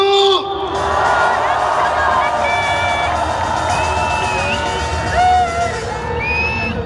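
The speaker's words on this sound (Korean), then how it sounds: "박수!" A large crowd at a street rally against a presidential impeachment in Gwanghwamun cheers and applauds loudly and continuously, with whistles and shouts rising over the steady roar.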